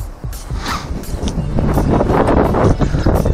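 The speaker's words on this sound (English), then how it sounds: "There's a fucking wind." Wind buffeting a microphone during a manual flight of a Parrot Bebop drone over a small town, a steady loud rumbling roar that rises and gusts throughout.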